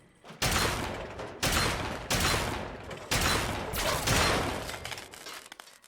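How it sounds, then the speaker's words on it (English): Automated turrets in Fallout 3 firing at the player in a raider area, loud sustained bursts of rapid gunfire in several long volleys separated by brief gaps, close and dominating with no voices. "I totally forgot about the turrets."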